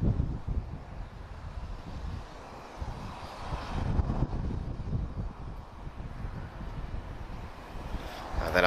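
Steady drone of a Portuguese Air Force CASA C295 turboprop transport aircraft at an airfield, a continuous engine roar mixed with wind buffeting, moderately loud throughout with no speech.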